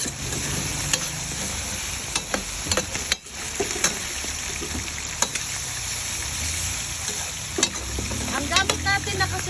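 Meat and ampalaya (bitter melon) sauté with oyster sauce in a stainless Salad Master pot, a steady close sizzle broken by repeated scraping stirs and clinks of the utensil against the pan.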